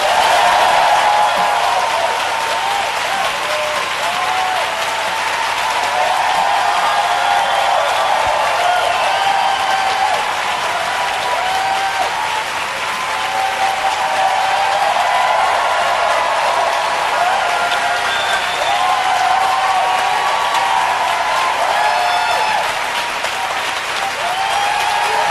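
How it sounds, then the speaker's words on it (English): Sustained audience applause for Alanis Morissette at an MTV Unplugged taping, a dense loud wash of clapping and some cheering that holds steady throughout. "So what I'll ask you to do is the applause."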